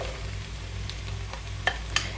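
Mushrooms for a Kerala-style mushroom theeyal sizzle steadily in a hot pan, a soft continuous frying hiss broken by two brief sharp crackles near the end, with no talking.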